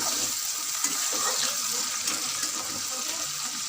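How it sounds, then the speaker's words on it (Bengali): Onion and tomato frying in oil for a masala, a steady bright sizzle running throughout at moderate level, with a faint voice in the background. "তেলের সঙ্গে পেঁয়াজ টমেটোটা বেশ ভালো ভাগ করে ভাজা হচ্ছে"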